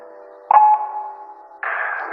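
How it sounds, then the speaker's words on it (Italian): A telephone voicemail service gives a short electronic beep, signalling the start of message recording on an Italian answering service; a brief clear tone, followed by softer sustained sound. "Dopo il segnale acustico, registra il tuo messaggio."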